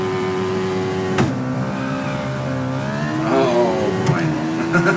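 A Hayabusa-swapped Mazda Miata in the Assetto Corsa racing game launches from a standstill, its engine note climbing steadily through the revs with a sharp shift break partway through, loud and close under a voice talking.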